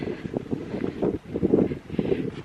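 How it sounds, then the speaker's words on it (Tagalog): Steady gusting wind on Malvern Hill buffets the microphone with low rumbling bursts, rising and falling in strength throughout. "Mahangin talaga."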